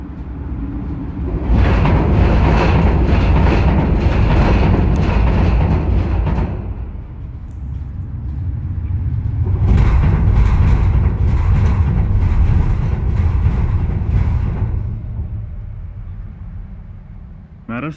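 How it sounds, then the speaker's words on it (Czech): A metro train rumbles past beneath a ventilation grate, two loud roaring passes that swell in and fade out, separated by a quieter lull. "Metro je několik sekund předtím, než projede cítit."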